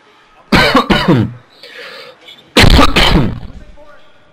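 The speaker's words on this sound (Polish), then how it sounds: "człowiek nie pali, a kaszle" A man coughs hard and close by in two harsh, loud fits separated by a short pause, with faint background noise between them.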